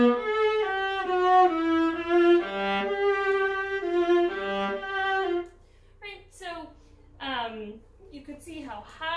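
A viola bowed very high up on one string, drawn-out harmonic-rich tones with a thinner, strained quality, loud and close, shifting partway into breathier, sliding high notes.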